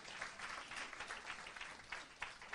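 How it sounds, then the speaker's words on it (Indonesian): A church congregation applauding during a sermon, heard as a faint, continuous patter of many hands clapping with small swells and no voices on top. "Kasih tepuk tangan yang meriah buat Tuhan."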